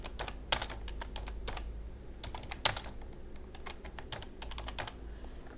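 Keys on a computer keyboard are typed in quick, uneven bursts, close and moderately loud, with short pauses between runs and nobody talking.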